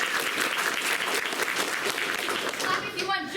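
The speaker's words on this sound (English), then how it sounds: "clap if you want Jack to be eliminated" Live comedy show audience clapping to vote a contestant out, a dense, sustained burst of applause from a crowd that tapers at the end as a voice comes in.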